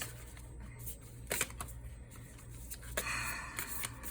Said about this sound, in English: When the size is different, it's just like so difficult to shuffle sometimes.